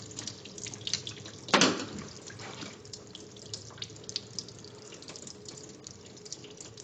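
Water runs steadily from an open test cock on a double check valve backflow assembly, a continuous faint splashing stream with a brief louder gush near the start, no talking.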